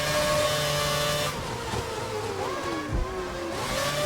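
Formula 1 race car engines from a 2011 Canadian Grand Prix racing video game, a Sauber among them, whine steadily at high revs, the pitch sweeping down under braking and climbing again as the cars accelerate out of the corners.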